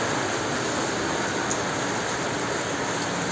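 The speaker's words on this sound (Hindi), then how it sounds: "बारिश लगातार, मतलब 1 सेकंड के लिए भी नहीं रुकी है कल दोपहर से" Continuous rain pours down in Manali, a dense, unbroken rush of falling water that stays loud and uniform from start to finish.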